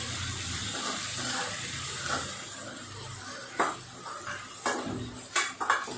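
Chopped ingredients sautéing on a normal flame in a pan for a fish curry, low sizzling hiss under several clattering spatula scrapes and knocks against the metal.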